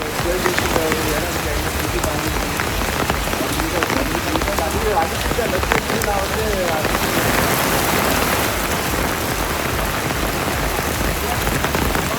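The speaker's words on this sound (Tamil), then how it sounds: "காற்றுடன் மழை கொட்டியது" Heavy night rain driven by wind pours down steadily, a dense continuous patter on surfaces that stays even and loud throughout.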